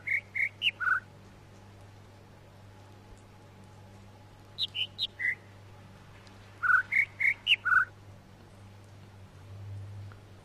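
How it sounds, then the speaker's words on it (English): Bird calls in The Witness, a video game jungle area: three bursts of short, bright, whistled chirps, four or five notes each in quick descending runs, standing out clearly over a low ambient hum. "only one of the birds makes 4 calls, the other makes 5"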